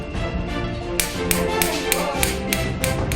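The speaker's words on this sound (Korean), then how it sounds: "오직 망치 하나만으로 일정한 간격으로 두드리는 작업을 반복합니다" A single hand hammer taps a surface pattern into gold or silver, giving a quick, steady series of sharp, evenly spaced taps, close and fairly loud, ringing over a low metallic background.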